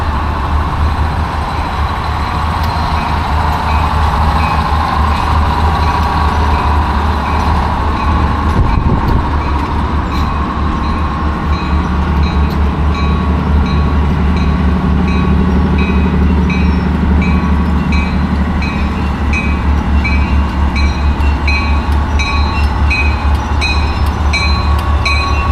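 Reading & Northern RDC #9164 runs alongside three other RDC railcars, a steady loud rumble of wheels and diesel engines that stays close and continuous with no talk.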